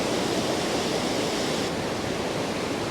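Water from the dam at the Falls of Clyde near New Lanark rushes through in a steady, loud, broadband roar with no break or voices over it.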